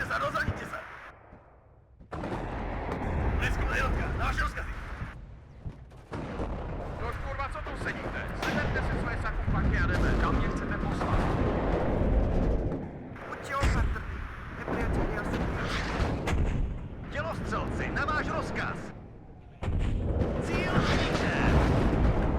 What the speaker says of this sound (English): We'll start dropping some artillery around the edge of that lake again.